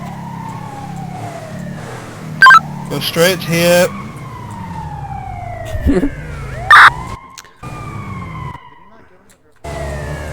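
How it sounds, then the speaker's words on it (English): Police escort vehicle sirens for a governor's speech wail and sweep up and down through a city drive, rising and falling tones running steadily under a man giving turn directions over a radio. "Only marked units are to use sirens as a reminder."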